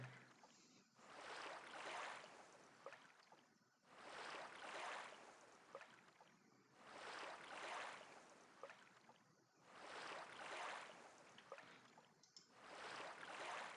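Steady rushing water ambience in the EverQuest game, broadband and continuous, swelling in roughly three-second surges like lapping waves, loud and alone with no talk.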